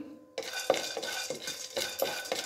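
Peanuts being dry-roasted and stirred in a pan, a rhythmic series of close scraping, rattling strokes repeating about every half second.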